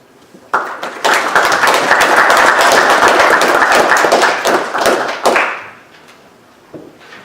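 A short round of applause from a seminar audience starts abruptly, with sharp, close claps that hold for about five seconds and then fade to a few scattered claps and room quiet.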